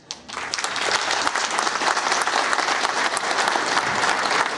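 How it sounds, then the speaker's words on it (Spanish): A crowd at a public event in Mexico breaks into loud, sustained applause, dense clapping filling the space steadily from start to finish after a brief quiet moment. "Con un fuerte aplauso le agradezcamos los apoyos que hemos recibido"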